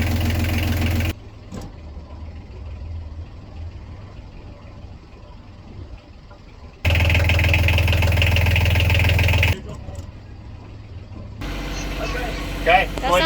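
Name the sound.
boat engine idling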